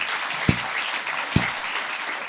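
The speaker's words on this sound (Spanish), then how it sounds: "Sí, un aplauso a Jesús. Bien fuerte." A church congregation applauds for Jesus after a prayer, a diffuse wash of clapping that runs for two seconds with two sharp low thumps standing out from it.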